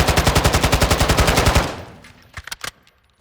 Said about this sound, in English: I'm going to go left to right with firing.